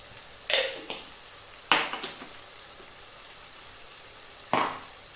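Turmeric and coriander powders go into a hot pan for a Kerala chicken roast, giving a low steady sizzle with three sharper bursts of stirring and frying scrape, close by with no talk.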